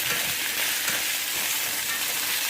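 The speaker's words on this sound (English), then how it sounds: "I pulled off some chicken meat here and have it here frying up" Leftover chicken meat frying in a pan on a van-life stove, a steady, close sizzle with faint crackles throughout, no voices.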